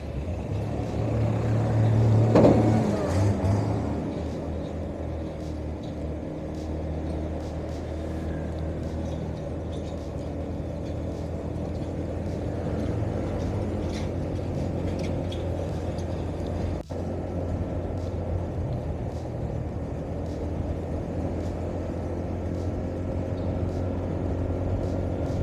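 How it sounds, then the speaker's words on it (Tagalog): Steady road traffic on a street toward Tala in Caloocan near a construction site, with continuous low engine rumble of cars, trucks and buses, a louder passing vehicle early on, heard at close range with no talk. "So ito na yung traffic papuntang Tala."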